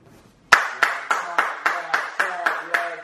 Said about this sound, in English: Young Chart, you ain't gonna clap?